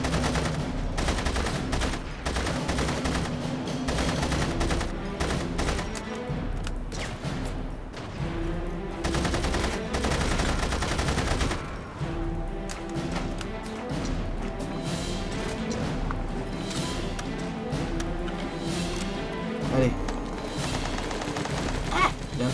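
Enemy gunfire from a distance in The Saboteur, rapid bursts of shots and fusillades crackling over a dense, loud game soundscape with rumbling booms, continuous across the whole stretch.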